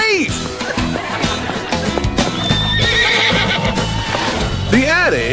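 Horse neighs and whinnies loudly up close, with clip-clop hoofbeats and other voice-like sounds mixed in, in a short, busy burst.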